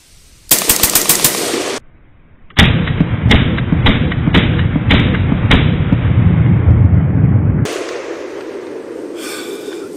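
Rapid gunshots fired through a TriggerTech Diamond competition trigger: a quick burst of sharp cracks, then after a pause a longer run of loud, close shots in fast double-tap rhythm, with echoing ring afterward.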